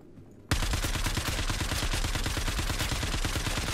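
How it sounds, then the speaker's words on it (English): Sustained automatic gunfire from the Star Marine mode of the Star Citizen video game, bursting in loud and near after a brief quiet start, then rattling in rapid, steady repeated shots without pause. "I've thrown like 900 bullets at that guy and still nothing"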